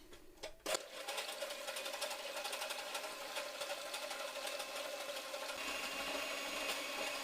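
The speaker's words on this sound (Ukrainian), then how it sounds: "Збиваємо білки з цукром, додаючи дрібку солі." An electric mixer whips egg whites with sugar and a pinch of salt, a steady continuous motor whir held at an even level from start to finish after a couple of brief knocks.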